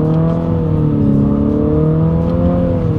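A 2023 Infiniti QX55 pulls hard in first gear under manual paddle-shift control, engine note loud and climbing steadily in pitch as it revs up, heard from inside the cabin.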